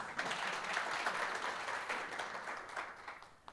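Faint audience applause at a governance leadership dialogue in South Africa, a continuous soft patter of many hands that gradually thins out toward the end.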